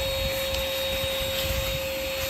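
A vacuum cleaner runs steadily and loudly over a glued model railroad landscape with glued ballast, a continuous close whine with a constant tone and no voices.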